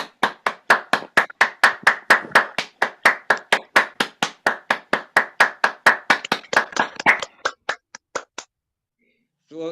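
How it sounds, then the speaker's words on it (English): Hand clapping from an online audience joining a storytelling event, a fast regular run of about thirty sharp claps that stops suddenly, close and clear with no talk over it. "Can you all unmute adults and give a big round of applause to our young tellers in Gaza?"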